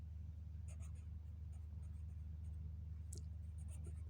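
Equations are written out by hand as faint, scratchy strokes come in short clusters over a steady low electrical hum, with no talking.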